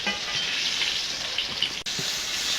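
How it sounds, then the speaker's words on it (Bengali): Fish frying in hot oil in a wok gives a steady, close hiss and sizzle, with a brief clatter partway through as pieces are turned. "মাছগুলো উল্টে পাল্টে ভেজে নেব।"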